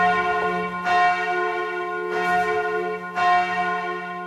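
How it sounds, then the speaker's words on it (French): Large bells of Notre-Dame de Paris toll in a slow, steady sequence after the fire, each strike ringing out with long resonant overtones that overlap the next. "Y a-t-il un Quasimodo pour sonner les cloches de Notre-Dame?"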